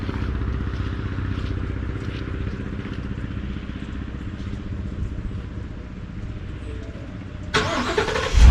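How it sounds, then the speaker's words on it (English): A pickup truck fitted with a SnowEx 8611 power plow cranks and fires up in winter, a low rumbling engine throughout, then a sharp louder burst as it catches near the end. "Let's start up the truck."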